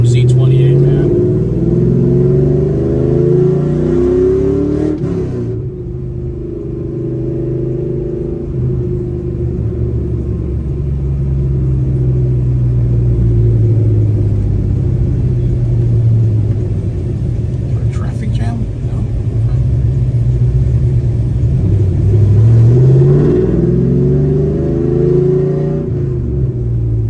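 A 2002 Chevrolet Camaro Z28 rumbles loudly up close, its engine rising and falling through several revving swells with sharp throttle changes, someone speaking over the drone at times.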